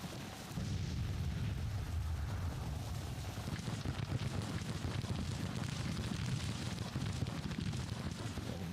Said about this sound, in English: Some of the enemy infantry is shooting back anyway.